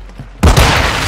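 A thrown grenade in Call of Duty: Warzone 2.0 detonates with a sudden loud, heavy boom after a quiet moment, its low rumble lingering and decaying through the rest of the moment.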